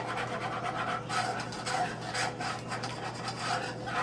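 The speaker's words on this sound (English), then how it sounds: "just going to whisk that a little bit." A whisk scraping steadily around a pot of homemade custard mixture, producing a continuous close rasping swish with rhythmic strokes over a low electrical hum, no talking.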